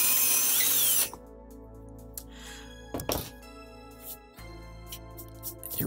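A hand drill reams out a pre-drilled hole in a part for a Proxxon Thermocut upgrade, giving a steady close whirr with a few metallic clunks and taps, no voices.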